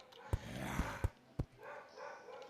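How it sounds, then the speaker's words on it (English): A dog barks in several sharp, separate yips a few tenths of a second apart, heard faint and somewhat distant over a low background. "I'm going to go tell that dog to shut up in a second."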